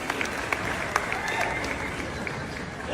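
A crowd applauds continuously in a loud, dense wash of clapping, with a few sharper claps and faint voices mixed in beneath the steady roar.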